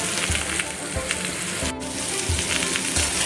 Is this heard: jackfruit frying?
yes